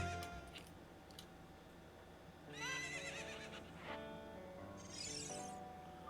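Horse whinnies from the Zelda Ocarina of Time video game, a couple of bright neighs, a short one early and longer ones later, fairly loud over a quiet game background.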